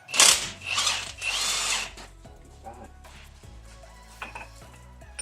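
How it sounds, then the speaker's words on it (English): A power tool spins off the pinion nut on a truck front end during repair, giving loud buzzing bursts in the first two seconds, then a lower idle rumble with clanks of metal parts. "I gotta take the pinion nut off"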